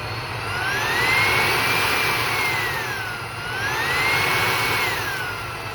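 A Riccar R65 cordless vacuum cleaner runs loud and close with a steady motor roar, while its high whine slowly rises and falls in pitch as the suction level shifts. No one speaks.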